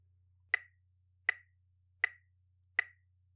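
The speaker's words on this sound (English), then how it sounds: "So if we counted this with our metronome, it would sound like this." A metronome ticks four sharp, evenly spaced clicks at a steady tempo, close and clear over a faint low hum.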